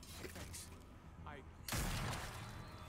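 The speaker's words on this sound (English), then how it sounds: "Those aren't even kill shots. That's a waste of bullets if you're not even gonna aim for the head." Bursts of gunfire in The Walking Dead: A New Frontier game, with a louder cluster of shots midway, heard under and between people talking.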